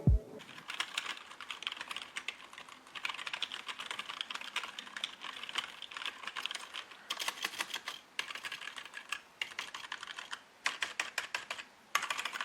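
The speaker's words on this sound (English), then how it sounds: "this is how it sounds with the onboard camera audio" Fingers type on a Rii RK100 membrane keyboard with LED backlighting, producing rapid, fairly quiet clicks in bursts with short pauses between them, recorded close up with no voices.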